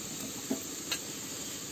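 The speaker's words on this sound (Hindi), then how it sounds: "अरे चलिए देखिए, प्याज भून चुका है।" Onion frying in a pan for chana dal tadka: a steady, soft hiss of sizzling oil throughout, with a couple of faint clicks of stirring, no talk.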